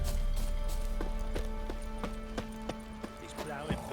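Horse hooves clip-clop in steady rhythmic steps in The Witcher 3, close and clear over a background of game ambience and music, with a voice talking over parts of it.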